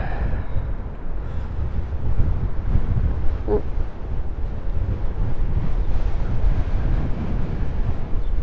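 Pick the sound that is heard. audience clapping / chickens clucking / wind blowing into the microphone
wind blowing into the microphone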